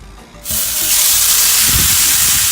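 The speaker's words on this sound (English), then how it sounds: "You hear that sizzle?" Flank and skirt steak hit a hot grill and burst into a loud, steady sizzle that keeps hissing up close.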